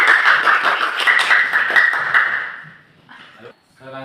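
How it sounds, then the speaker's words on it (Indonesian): Students in a classroom clap together in a quick rhythmic burst of sharp, close claps for a couple of seconds, followed by a short quiet moment and a bit of talk. "Tepuk tangan untuk kita semua."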